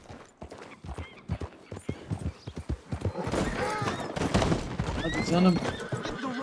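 Horse in the video game Red Dead Redemption 2, a run of distinct clip-clopping hooves followed by a loud, wavering neigh and snorting, with someone speaking briefly at the start.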